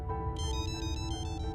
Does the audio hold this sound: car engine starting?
no